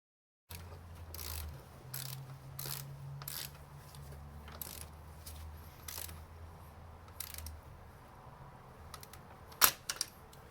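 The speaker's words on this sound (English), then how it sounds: "I'm holding the socket so that just with my finger, so it ratchets" Socket ratchet turned by hand on the valve cover bolts of a 2003 Pontiac Sunfire 2.2L Ecotec, giving a run of close, quiet clicking bursts in a steady rhythm over a low hum, with one sharper clack near the end.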